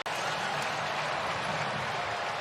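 A football stadium crowd at an NFL game gives a broad, roaring cheer with applause, distant and sustained, with no clear talk on top.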